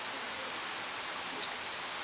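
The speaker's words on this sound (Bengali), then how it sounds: "দেখো না বৃষ্টি শুরু হয়ে গেছে" Rain falling, heard as an even, dense hiss of steady drops with no individual sounds standing out, continuous and moderately close.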